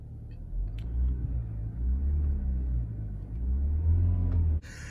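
Engine of a 2019 Chevy Malibu Hybrid idling and revving gently with a steady low rumble, a modest rise in pitch near the end, then an abrupt cut-off, close by with no talk.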